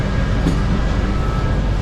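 An Indian Railways Vistadome coach running along the tracks, a continuous loud rumble with a steady mechanical rattle, no voices.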